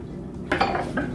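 A metal saucepan holding butter, honey and liquids set down on a stove with a sharp clank, then a few lighter metallic knocks, close and brief.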